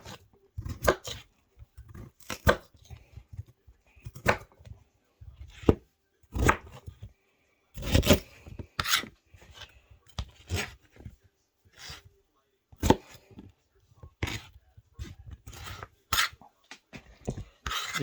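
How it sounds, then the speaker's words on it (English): A knife chops through big potatoes on a board at Thanksgiving, giving irregular sharp thunks and knocks, some in quick bunches, others spaced apart, close and clear with a little talk in between. "So I'm gonna cut this potato up."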